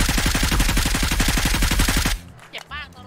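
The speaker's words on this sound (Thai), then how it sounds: "เสียงปืน" Rapid automatic gunfire in the video game PUBG rattles loudly for about two seconds, then cuts off, leaving brief electronic game sounds and quieter effects.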